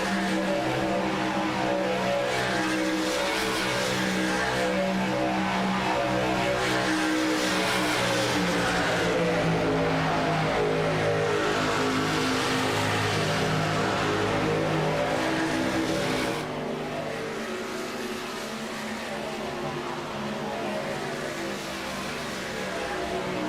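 Several race cars lap a track during a VSpeed Contender Series event, their engines droning in a steady layered roar with pitch shifts as they pass and surge, loud and continuous throughout.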